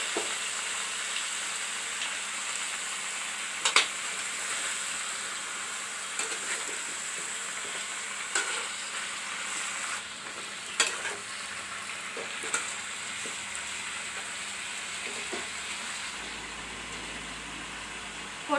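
Potatoes and poi saag frying in a pan, a steady close sizzle running throughout with occasional scrapes and knocks of stirring.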